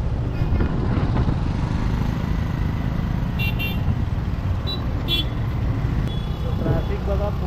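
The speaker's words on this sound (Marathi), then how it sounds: "ट्रॅफिक बघा फुल एकदम." Dense, slow-moving traffic on the single-lane Mumbai-Goa highway NH66 near Kolad rumbles steadily close by, car and motorcycle engines droning with occasional short horn toots, while someone talks over it.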